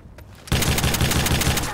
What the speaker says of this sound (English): Yo, shotgun, auto shotgun.